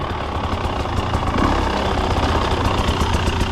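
A new 2024 KTM 300 XC-W two-stroke dirt bike engine runs steadily, a dense, continuous mid-pitched drone with a faint rise and slight throttle variation, close and loud, with no talking.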